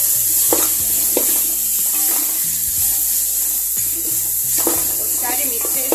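Rice with mint and coriander is stirred in a hot pan, giving a steady close sizzle with repeated spoon scrapes. A low, droning background tone runs under it.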